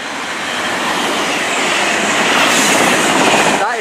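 Penzance to Bristol Temple Meads passenger train, a four-car Class 221, passing through Yatton station on the Great Western Main Line, a loud close roar of wheels and engine rising steadily, with a brief squeal at the end.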